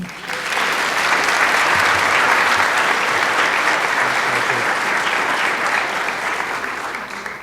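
Sustained applause from an audience welcoming the mayor at a State of the City event in Anacortes, steady and fairly loud throughout with no talking over it.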